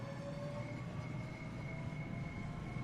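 A London Overground electric train in the Train Sim World 2 game pulls away from Kensal Green at full throttle, a steady, fairly quiet rolling hum with faint whining tones.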